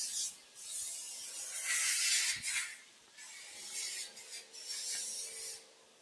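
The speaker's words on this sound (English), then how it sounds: "this is a gantry CNC machining center" A large gantry CNC machining center in a parts factory working alone, with bursts of rasping, scraping cutting noise that swell and fade in rough waves over a low mechanical background.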